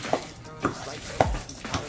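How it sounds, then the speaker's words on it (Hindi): Egg being mixed by hand into chapli kabab mixture gives soft squelching, slapping sounds, with a few stronger pushes in an uneven rhythm, close and fairly quiet, over a faint background. "एक साइड से मैंने अंडे को इसमें मिक्स करना शुरू कर दिया"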